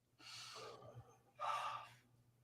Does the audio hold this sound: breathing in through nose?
yes